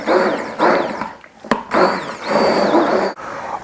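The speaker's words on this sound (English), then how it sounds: "once you're through with the blender and you've got the soup at a nice smooth texture" Blender pureeing Thai-inspired butternut squash soup, a loud whirring grind in bursts with short pauses between pulses, close up and with no talking.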